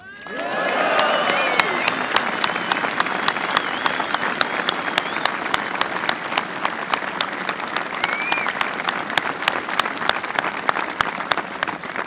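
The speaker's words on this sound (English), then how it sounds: "We applaud Martin McGuinness." A large crowd at a funeral for Martin McGuinness applauds, sustained dense clapping with a few whoops at first, holding steady and loud for about twelve seconds.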